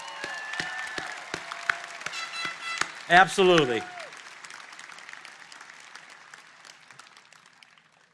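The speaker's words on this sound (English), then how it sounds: "A round of applause for them." A graduation ceremony audience starts with a few scattered claps, then breaks into broad applause that slowly fades. A voice speaks briefly over it.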